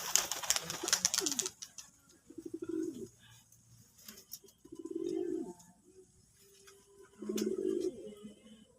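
Pigeons at a loft give repeated low, throaty coos, three separate rounds over a quiet background, after a brief stretch of rustling and flutter noise at the start.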